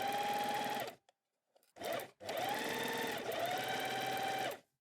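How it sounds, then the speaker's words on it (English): A sewing machine runs a straight stitch seam along fabric edges, its steady whirring hum in three bursts separated by short pauses, close and alone. "We set our machine to straight stitch"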